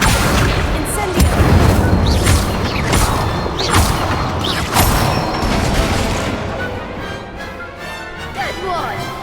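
Spells fire in rapid succession during combat in the Hogwarts Legacy video game: loud whooshing magical blasts, booms and crackling impacts crowd together continuously, with a voice present amid the clatter.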